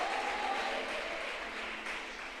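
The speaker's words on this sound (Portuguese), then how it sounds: "Você pode aplaudir o Eterno." A church congregation gives a continuous wash of applause, a steady and fairly distant roar of many hands clapping at once.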